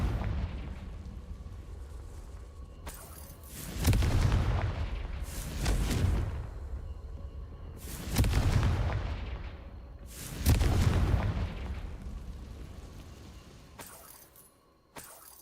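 Four heavy Confringo spell explosions from the Hogwarts Legacy video game burst in close succession, each a booming blast with a decaying rumble, spaced a few seconds apart over quiet game ambience.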